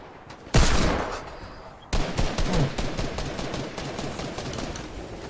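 Gunfire rattles in bursts during a Fortnite Season 9 match: one sharp shot, then a denser, sustained volley of rapid close-range fire.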